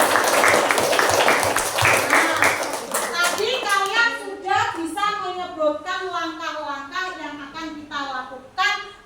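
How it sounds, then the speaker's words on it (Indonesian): Children in a classroom clap their hands together in a burst of applause that fades after a few seconds, followed by voices talking. "Tepuk tangan untuk kalian semuanya."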